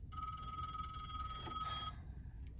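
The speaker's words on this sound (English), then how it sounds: "Willa, the phone!" Telephone bell ringing in a home: a steady electronic trilling ring, loud and close, sounding for about two seconds and then cutting off, with no talk over it.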